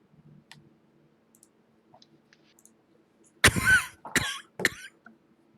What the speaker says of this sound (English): Post-COVID cough.